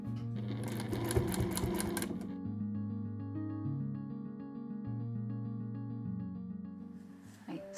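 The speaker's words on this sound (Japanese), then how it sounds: "そしたらここの部分を縫って仕上げていきます。" A domestic sewing machine stitches straight seams on a camisole dress, its motor humming and needle chattering steadily up close for several seconds before it slows and stops near the end.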